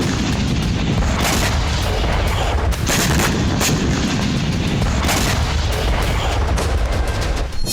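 Explosions during a heavy attack on Crimea, dense loud booms and rumbling blasts overlapping continuously with sharp cracks like gunfire throughout.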